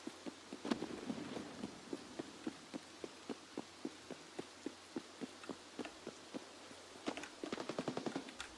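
Gunfire in Escape from Tarkov, a steady run of evenly spaced single shots fired one after another, then a quick rapid burst near the end, with sharp reports and no talking.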